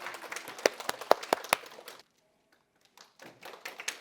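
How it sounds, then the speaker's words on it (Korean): An audience at a prenatal class event applauds the first-prize winner with a short burst of sharp, close hand claps that stops abruptly into near silence, then scattered clapping resumes. "1등은 큰 박수 부탁드리겠습니다"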